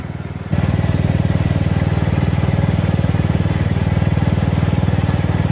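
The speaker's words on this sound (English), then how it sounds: "now I'm getting to test drive the lawnmower" A riding lawn mower engine runs while being driven, a steady close chugging drone with a fast even pulse that kicks up louder after a short start and holds throughout, with no talk.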